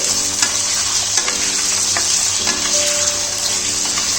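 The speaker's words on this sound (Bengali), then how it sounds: "তেলটা গরম হয়ে গেছে, এবার আলুগুলো এর মধ্যে ফ্রাই করে নেব।" Potato pieces frying in hot oil in a pan, a steady loud sizzle with occasional stirring clatter throughout, no talking.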